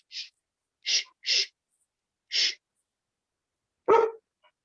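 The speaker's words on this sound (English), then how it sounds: "that's my dog in background." A dog barks in short sharp yaps, four quick ones spaced over a few seconds, followed by a huffing sneeze-like snort, all heard alone against silence.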